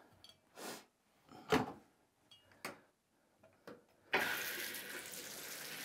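A jet-powered bathtub in a home is switched on: a few scattered knocks and clicks, then a sudden loud, steady rush of running water that continues to the end.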